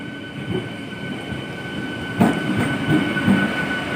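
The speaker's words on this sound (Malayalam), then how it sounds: "ട്രെയിൻ ഏതാനും നിമിഷങ്ങൾക്കകം പ്ലാറ്റ്ഫോമിലെത്തി." A train arriving at a platform rumbles steadily nearby with a low, continuous drone, punctuated by a few brief clanks and knocks.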